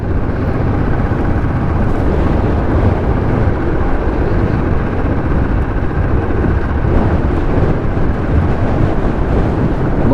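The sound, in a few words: cold wind blowing while riding a motorbike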